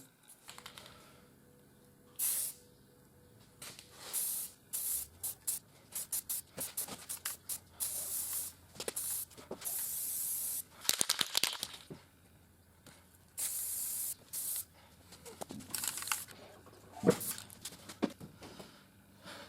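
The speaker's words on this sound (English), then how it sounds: "gonna tape off the handle part, then spray on a little bit of a primer" Spray can of primer hissing onto small action-figure briefcases in repeated short bursts and a few longer blasts, separated by quiet pauses and light handling clicks, close and fairly soft.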